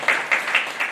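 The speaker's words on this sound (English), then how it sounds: "Give a big round of applause" Brief applause from a seminar audience on entrepreneurship and technology, about four soft clustered bursts of clapping within a second, with no talk.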